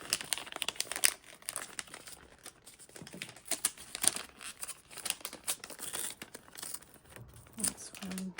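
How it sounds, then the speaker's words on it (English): Plastic bag of Japanese souvenir stickers being opened by hand, giving continuous close, soft crinkling and rustling with small crackles throughout, without speech. "I don't want to rip the bag."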